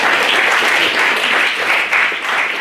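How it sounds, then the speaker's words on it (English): An audience claps for novice debaters at a debating competition, dense continuous applause that stays loud and even throughout. "so everyone give them a round of applause."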